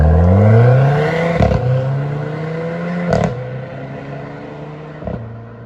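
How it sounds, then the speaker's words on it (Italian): A Renault Clio RS Mk4 in sport mode revs and climbs through gears, engine note rising, with three sharp exhaust pops cracking at each shift, loud and close. "quando sei in modalità sport, nelle cambiate spara fuori cannonate."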